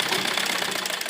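A sewing machine running fast to stitch a double seam on a girl's frock, a close, loud, continuous rapid mechanical chatter with an even rhythm for about a second.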